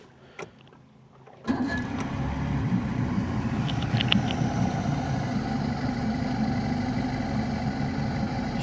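A 1988 Bayliner fish and ski bass boat's engine, sitting in the water, catches after a brief quiet start and settles into a steady, even idle that holds to the end.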